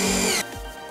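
A power drill drives screws through wood sheathing on a ramp being built for a robotics competition court, one loud whirring burst that stops abruptly partway through, followed by a quieter tail.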